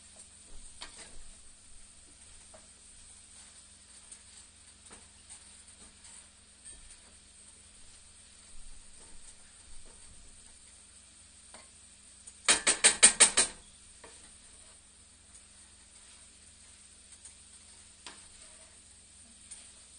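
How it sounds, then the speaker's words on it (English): Food sizzles faintly in a pan for a fall cooking session while it is stirred, with scattered light clinks and one short burst of rapid ratcheting clicks midway; no talking. "Stir around."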